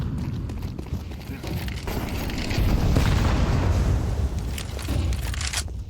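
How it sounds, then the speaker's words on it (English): A grenade explodes in a Counter-Strike 2 match, a deep booming blast swelling around the middle amid steady game noise and footsteps, loud and rumbling. "Nade should find a little bit of damage here on Smooky."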